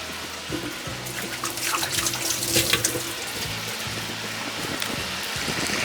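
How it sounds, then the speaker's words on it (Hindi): Hands are washed under a running kitchen tap during a cooking session, a steady rush of water splashing into the sink that continues without pause for several seconds, with no talk. "जब तक ये फ्राई हो रहा है मैं हाथ धो लूँ।"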